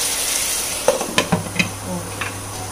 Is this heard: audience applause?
no